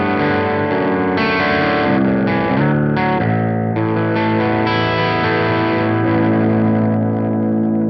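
A heavily distorted baritone electric guitar on its bridge pickup plays sustained low-tuned chords and riffs, thick and saturated, with no voices.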